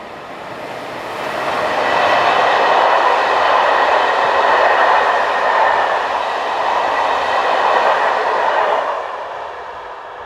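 Train hauled by a locomotive running on a European main line near a freight-line junction, a steady broadband rumble and rush that swells in, holds for several seconds, then fades as it passes, with no talk.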